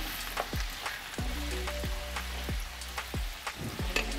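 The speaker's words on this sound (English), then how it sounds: "Give that a little stir." Pumpkin broth for steamed fish is stirred in a pot, with a faint bubbling simmer under a steady run of rhythmic spoon strokes, heard close.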